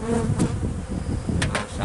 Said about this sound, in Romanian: Periem albina de pe această ramă.